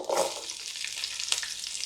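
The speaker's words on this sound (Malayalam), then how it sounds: "ഉള്ളി ഒരു മൂത്ത് വരുന്ന വരെ ഒന്ന് വറുത്തെടുക്കാം" Shallots and garlic fry in a pan for a Kerala sadya sambar, a short, fairly quiet, close sizzle with a brief clink or stir partway through.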